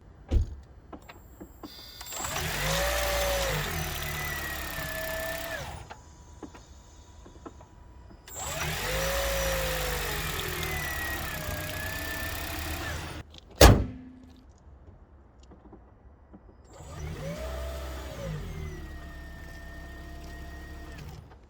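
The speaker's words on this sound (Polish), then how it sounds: "Jak słyszeliście, silnik co jakiś czas się gasi" A hybrid car's 1.8-litre petrol engine hums in three separate stretches, starting up, running several seconds and cutting out, with a sharp thunk in the quiet between the second and third runs.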